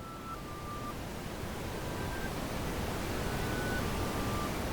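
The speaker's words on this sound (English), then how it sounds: "now let's see what happens when I add noise in" Steady, hissing broadband noise fills the clip at an even level, with a faint, soft tone barely poking through now and then.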